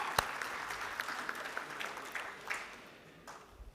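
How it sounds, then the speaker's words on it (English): A small audience claps for a guest from abroad at a summit conversation, scattered, fairly faint applause that thins out and fades toward the end. "there has to be a big round of applause for our guest who came from abroad today"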